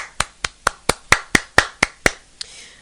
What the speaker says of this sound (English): Round of applause for that attendance.